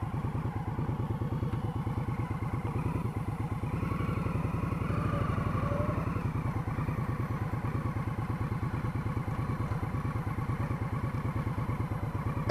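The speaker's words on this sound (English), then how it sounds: "I guess I found out that the Indian Scout can do some off-roading" A 2018 Indian Scout Ghost motorcycle rolls off-road over gravel with a steady rhythmic engine thump close by, joined by a faint crunch and clatter of stones throughout, with no talking.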